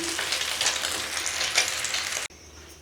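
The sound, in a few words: beef shami kababs frying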